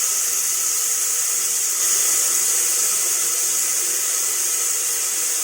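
Tomatoes frying in a hot pan while cooking paneer biryani at home, a steady loud sizzling hiss that holds unbroken throughout.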